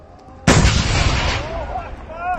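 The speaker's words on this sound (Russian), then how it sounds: "На эти кадры попал выстрел из ручного противотанкового гранатомета" A single shot from an RPG anti-tank grenade launcher in a border conflict, a sudden loud blast that rolls into a long rumbling, hissing decay.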